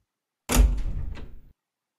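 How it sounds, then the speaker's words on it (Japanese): A single door bang in an old apartment, a sharp loud thump followed by a short rattling decay lasting about a second, alone against silence. "そしてドアの音。"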